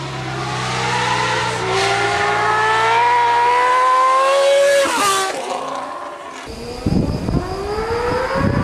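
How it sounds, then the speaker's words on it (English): A Honda CBX six-cylinder motorcycle engine revs with a high, smooth wail that climbs and shifts in pitch, loud and close, then cuts to a rougher, lower tone near the end. "the CBX is the bike that everyone wants because it sounds like an F1 car"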